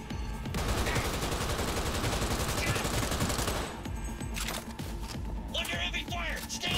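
Heavy automatic gunfire from a Cyberpunk 2077 firefight rattles in dense, continuous bursts, loud and close, easing slightly after a few seconds as scattered shots and game sounds continue.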